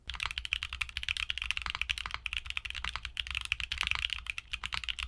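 Typing on a keyboard fitted with Akko Creamy Purple Pro tactile switches: quiet, rapid, uneven keystroke clacks in a continuous flurry, heard alone with no talk.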